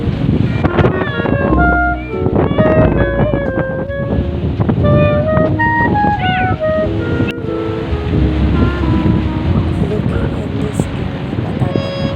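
Wind sweeps steadily across an island at a cove resort, a constant roaring gust mixed with surf, with voices talking over it throughout.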